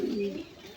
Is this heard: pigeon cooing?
yes